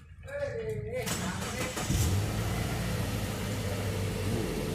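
Subaru Legacy 2.0i AWD started with a key: a short starter crank catches within about a second, then the engine settles into a steady, close idle hum.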